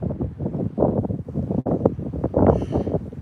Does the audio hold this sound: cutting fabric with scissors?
no